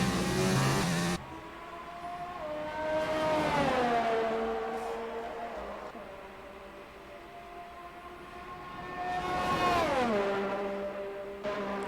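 A Renault race car engine in an online racing video game on the Belgium GP circuit, revving up and down through gear changes in two long rising and falling sweeps, loud and close.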